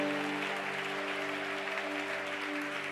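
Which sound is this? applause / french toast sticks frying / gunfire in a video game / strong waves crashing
applause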